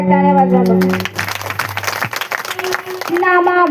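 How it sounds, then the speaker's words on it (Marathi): A crowd at a Bhagavat katha bursts into a short round of clapping, a dense patter that swells briefly between stretches of a sung, amplified voice, with a speaker heard over the start and end. "सर्वांसाठी जोरदार टाळ्या वाजवा"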